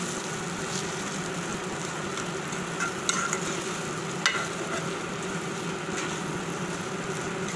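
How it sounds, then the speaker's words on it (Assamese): Spices fry in a pan for a sweet-and-sour chilli pickle, giving a steady crackling sizzle with a low hum beneath and a couple of light utensil taps, no speech. "তাৰপিছত গোটেই মছলাখিনি এনেকৈ দি দিছোঁ।"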